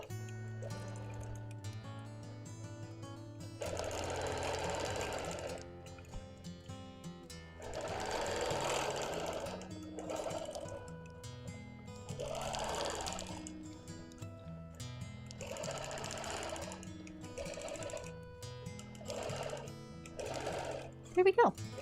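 A sewing machine stitches quilt border lines on a piano key border, running in repeated bursts of steady whirring separated by short pauses, close and clear over a low background hum.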